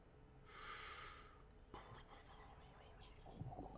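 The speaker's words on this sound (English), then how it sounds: "It's very weird that a freediving simulator would have the noise of a respirator." A respirator breathing effect plays in the freediving game Depth Hunter 2, a soft hissing inhale followed by quieter exhale and bubbling, close and faint, with a person's voice nearby.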